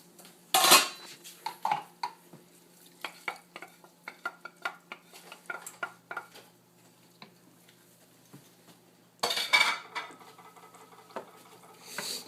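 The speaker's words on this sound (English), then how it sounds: "We're stirring that in. Always making sure that the rice is not sticking to the bottom." A spoon scrapes and clinks against a pot as rice with green olives is stirred for Cuban arroz con pollo, giving a steady run of close metallic taps and scrapes with a louder clatter near the end.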